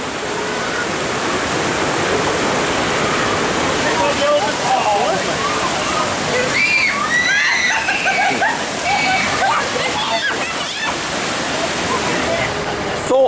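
Rushing, splashing water on the Kali River Rapids raft ride at Disney's Animal Kingdom, a constant roar of churning spray with bursts of sloshing, while people talk and shout over it.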